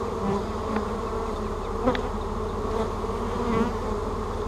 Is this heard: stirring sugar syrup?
no